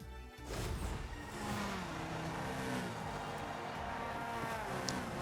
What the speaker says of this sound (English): I love the sound of the S2000 engine. It revs really high.